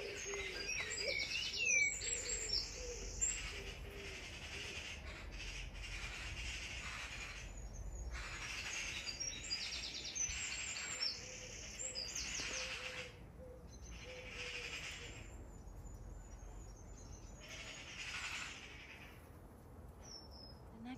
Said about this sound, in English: And we've got a baby bird in there.